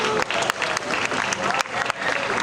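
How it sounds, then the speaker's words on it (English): An audience at a YouTuber panel Q&A at Kentucky Kingdom applauds, producing a dense, continuous patter of clapping from a crowd that holds steady for a couple of seconds. "another round of applause for Gabby."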